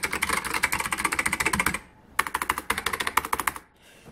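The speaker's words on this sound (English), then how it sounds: "Nice solid keyboard." Typing on an Alps computer keyboard, with rapid close clicky keystrokes in two bursts separated by a short pause, crisp and even, with no voices.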